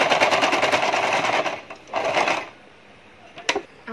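A sewing machine double-stitches the seam of palazzo pants, a loud rapid close-up chatter that pauses briefly, runs again, then stops with a couple of sharp clicks.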